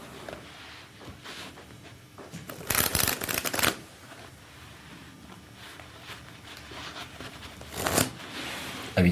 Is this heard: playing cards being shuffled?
yes